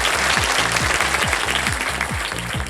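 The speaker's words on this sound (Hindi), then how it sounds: "ताली भी बज गई साथ में" Studio audience applause on the Kaun Banega Crorepati quiz show, steady and fairly loud, over a rhythmic low pulsing music beat throughout.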